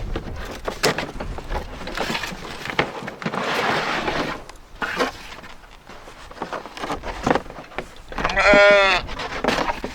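Sheep bleat on a farm in several short calls close to the listener, with one long, loud wavering bleat near the end, amid rustling and handling noises and no clear talking.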